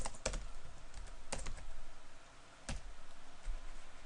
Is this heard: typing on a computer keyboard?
yes